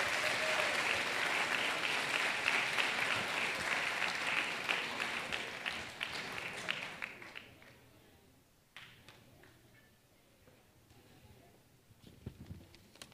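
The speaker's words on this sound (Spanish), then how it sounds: "recibamos con un fuerte aplauso al productor y guionista Dr. Melvin Mora" Strong applause at a dental aesthetics awards ceremony welcoming producer and screenwriter Dr. Melvin Mora, loud and dense at first, then thinning and fading out to a few scattered claps.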